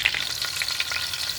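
Steady, crackling sizzle of vegetables, including sponge gourd, frying in hot oil, with a few brief clatters as they are stirred; close and continuous.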